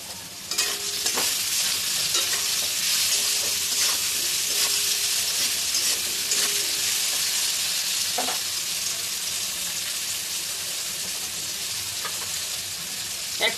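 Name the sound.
lightly frying jackfruit seeds and shrimp in pan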